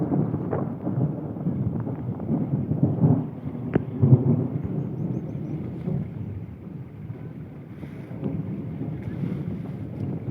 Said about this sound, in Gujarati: વરસાદ ગાય છે